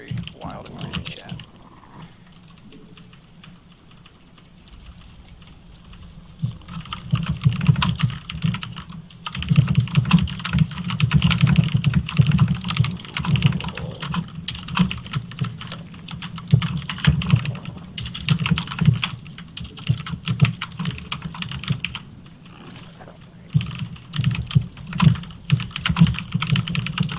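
Vigorous typing on a SteelSeries 6Gv2 computer keyboard goes on throughout, with fast, dense key clatter that gets louder after a quieter start and keeps a busy, irregular rhythm.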